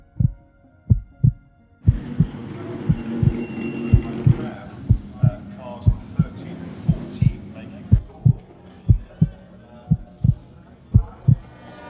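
A steady heartbeat sound effect thuds in a regular double-beat rhythm, loud and up front, running under a racing-car montage from the Goodwood Revival RAC TT, with a rushing broadband wash of engine and crowd noise rising and falling behind it.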